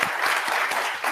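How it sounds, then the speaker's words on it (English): Audience applause at a games development industry panel event, a steady dense clapping from a crowd filling the whole moment, fairly close and continuous with no talk over it. "I think a big round of applause for our panelists, Bobby, Elaine, Jess, Andrew and Simon."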